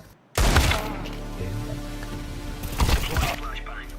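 Flashbang grenade detonating in Counter-Strike 2, a sudden loud bang after near silence followed by a ringing, muffled tail and a second burst of harsh noise, with faint talk beneath.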